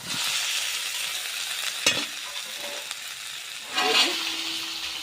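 Potol (pointed gourd), shrimp and potato hitting hot spiced oil in a pan, a steady close sizzle with brief stirring scrapes and a louder burst near the end, no talk.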